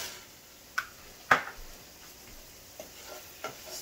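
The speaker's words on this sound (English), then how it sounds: "Stir that in." A spoon stirring ground black pepper into cornmeal in a pot, with a few soft scrapes and taps over a faint background hiss, close and quiet, with no talking.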